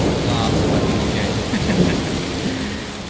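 Thunderstorm with steady heavy rain at Taman Safari Prigen, a safari park; a continuous loud wash of rainfall with low rumbling thunder throughout, no talking.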